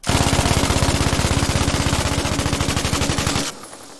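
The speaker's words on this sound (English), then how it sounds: "And here's the MG42." MG42 machine gun in the video game Battlefield V, firing one loud, sustained burst of very rapid, evenly spaced shots for about three and a half seconds before cutting off into a fading echo.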